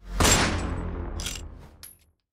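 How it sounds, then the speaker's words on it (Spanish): A single gunshot cracks and booms, then rolls away in a fading echo, with faint clatter afterward. "Sonó un disparo."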